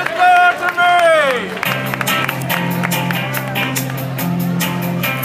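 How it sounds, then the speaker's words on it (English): A crowd claps and cheers for the Arthur Murray Dance Company at an outdoor street dance event, a continuous wash of hand claps and whoops mixed with a loud sung voice and music. "let's please give a huge round of applause to the Arthur Murray Dance Company."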